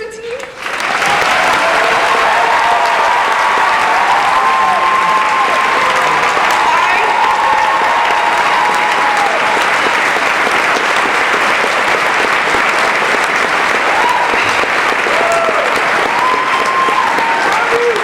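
A graduation audience applauds in a loud, sustained wave of clapping that starts abruptly and continues for many seconds, with scattered voices and occasional cheers mixed in.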